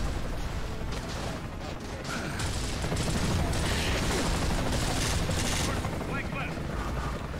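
Dense, continuous gunfire and battle noise from Gears of War roar steadily throughout, loud and close with no clear breaks between shots, as voices talk under the din.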